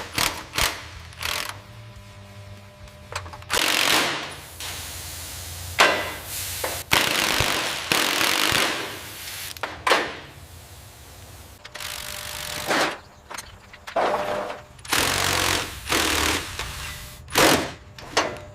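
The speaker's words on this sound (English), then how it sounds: "Try the impact wrench one more time, it's almost free." Impact wrench working on a corroded engine mount, loud repeated rattling bursts of hammering with short pauses between them, close up and with no voices.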